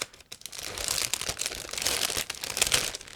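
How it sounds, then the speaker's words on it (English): Crinkling and rustling of a plastic bag as the sprues of an ICM 1/35 plastic model kit are pulled out, close up, irregular crackles and crunches without talk. "all frames are packed into the same plastic bag, and I will take them out in a second"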